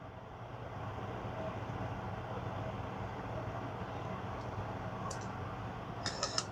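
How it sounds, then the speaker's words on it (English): A microwave oven warming food gives a steady low mechanical hum without a break, with a few faint clicks and beeps near the end. "throw this in the microwave, let it warm up"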